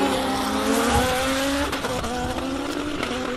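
A Ferrari-engined Lotus race car at the Simola hill climb: a loud, strained engine note climbs and then drops abruptly, as if a gear was missed, with tire noise before the revs pick up again.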